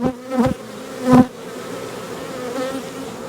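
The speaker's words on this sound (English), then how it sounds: "I see so many bees with pollen on them." Bees buzz steadily at an open hive in a dense droning hum, with a couple of louder close passes near the start before settling into a continuous swarm sound.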